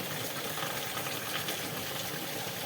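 Heavy rain pours over a village in a dense, steady, hissing roar that stays even and unbroken throughout, with no voices.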